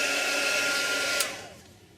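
A hair dryer blows steadily on a handmade paper Christmas card, a loud continuous whoosh that fades and trails off after about a second and a half.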